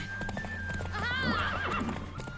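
A horse in The Witcher 3 lets out a loud, wavering whinny over steady clip-clop of hooves, with no one talking.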